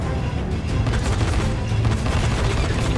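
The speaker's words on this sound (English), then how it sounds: "Ben's shooting him" Dense, continuous gunfire and explosive booms from the zombie game Dying Light, a loud churning barrage of shots and impacts with no pause, heavy low-end rumble throughout.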